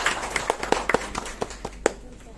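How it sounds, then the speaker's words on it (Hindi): At a public constitution rights forum, an audience gives scattered, uneven hand claps to honour the organisers, sparse and fairly faint, with a voice mixed in. "आयोजकों का एक बार हम तालियां बजाकर उनका अभिवादन करें"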